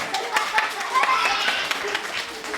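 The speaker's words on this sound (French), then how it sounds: "On applaudit." A children's audience at an interactive school show claps, a brief ragged patter of small hands close by, with voices mixed in.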